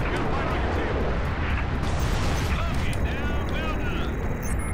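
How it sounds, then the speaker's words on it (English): Rockets fired during a Halo Reach battle burst as booming explosions with rumbling, crackling low-end aftermath beneath game sounds, while a player talks over the action. "I think it's better to just shoot rockets, no?"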